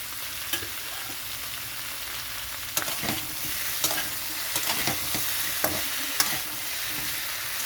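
Mixed vegetables for shukto frying in a pan, an even sizzle with scattered sharp taps and scrapes from a spatula stirring them.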